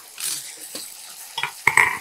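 Ginger-garlic paste sautéing in a pan for a ridge gourd peel curry, with a soft sizzle and a few sharp spoon scrapes and clinks against the pan, growing louder toward the end.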